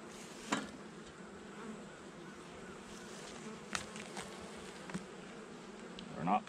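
Honey bees buzzing around their hives during an inspection, a continuous soft, close hum with a few louder bumps and knocks.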